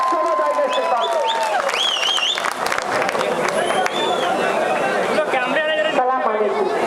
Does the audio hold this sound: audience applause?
yes